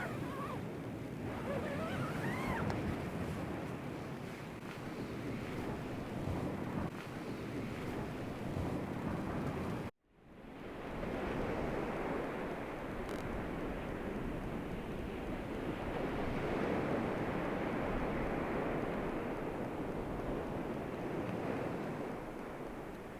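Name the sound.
sea waves on the beach at night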